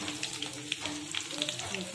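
Dried red chillies crackle as they fry in hot oil in a home kitchen, a steady close sizzle dotted with small pops, with faint voices in the background.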